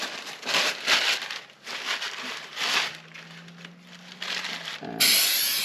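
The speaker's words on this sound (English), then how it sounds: "I'll use some paper towel to wipe it down to start" Paper towel rubs and scrubs grease off trailer brake parts in uneven, close rustling strokes, ending with a sudden louder hiss.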